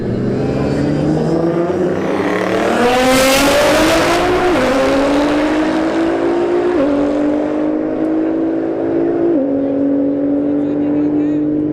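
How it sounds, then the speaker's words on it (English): A Nissan GT-R and a Dodge Scat Pack Charger launch in a drag race at a motorsports park, engines roaring up through gear changes, the rising pitch stepping down with each shift as the cars pull away, while an announcer talks over it. "CCO Performance GTR versus a Scat Pack Charger"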